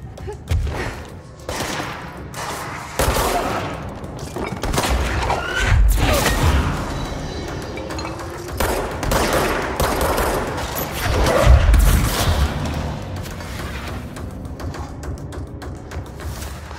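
Repeated bursts of player gunfire from the video game Control, loud and close, firing in rapid volleys with heavy impacts and crashes between them, and a voice talking over part of it.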